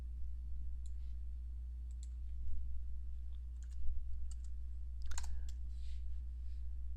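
Keyboard keys and mouse clicks in a 3D animation workspace, a few faint scattered clicks near the mic with one brief cluster, over a steady low hum and no talking.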